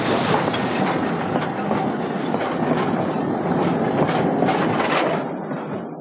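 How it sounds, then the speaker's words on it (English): Loud, continuous rumble of a train rolling along the tracks in the Ecuadorian Andes, with rhythmic clacking of wheels, easing off slightly at the end. "the people ride the train"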